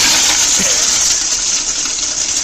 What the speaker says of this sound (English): That is an Archie Bunker level flush.